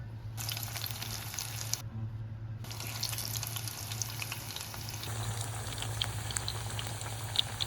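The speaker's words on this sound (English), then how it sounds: "The oil is hot, so I will start frying the bora." Bora fritters sizzle in hot oil, a steady crackling hiss with a low hum beneath it that pauses briefly, then continues as more batter goes into the pan.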